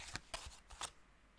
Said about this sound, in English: I'm going to shuffle again and see if it wants to come out.